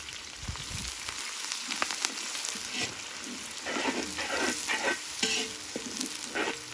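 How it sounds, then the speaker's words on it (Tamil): Spices tempering in hot oil crackle and sizzle steadily, with occasional stirring scrapes, close and fairly loud, no talking. "போட்டு தாளிக்கணும்"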